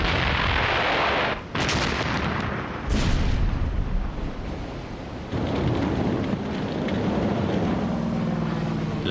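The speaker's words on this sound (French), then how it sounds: "coulant leur proie à l'aide du canon situé sur leur pont" A World War II U-boat's deck cannon fires at ships, with heavy booming blasts rising out of a constant, rumbling roar.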